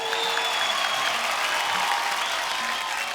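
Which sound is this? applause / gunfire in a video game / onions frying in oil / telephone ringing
applause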